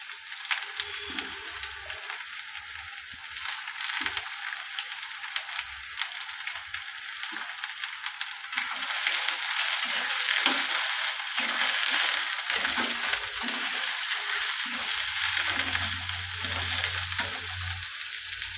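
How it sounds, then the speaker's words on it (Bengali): Chopped onions hit hot oil with nigella seeds for a snake gourd curry, giving a loud, continuous sizzle with occasional stirring scrapes that grows stronger partway through. "সেই কুচনো পেঁয়াজগুলো এর মধ্যে দিয়ে দিলাম"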